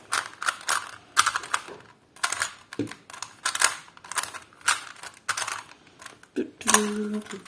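Plastic clicks and clatters come from a Rubik's cube being turned and scrambled, a quick irregular run of close, sharp turning snaps with no talking over it.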